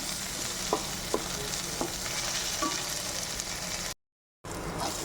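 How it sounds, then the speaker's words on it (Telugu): Tomatoes frying and softening toward a paste in a pan, a steady sizzle broken by a few spatula scrapes and taps, with a short cut near the end. "మంచిగా కొంచెం టమాటోస్ వేగాలి ఫ్రెండ్స్, సన్నగా అయిపోవాలి మొత్తం పేస్ట్ లాగా"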